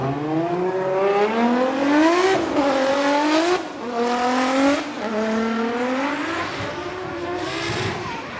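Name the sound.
Toyota GR Corolla race car drifting at Okayama circuit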